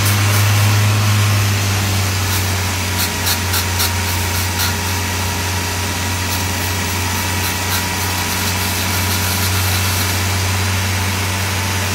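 A car engine idles loudly and steadily at close range with a deep droning hum, faint light clicks ticking over it during the middle stretch.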